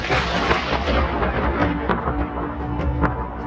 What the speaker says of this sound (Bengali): দিদি, ওই দেখো আকাশে কেমন বজ্রপাত হচ্ছে।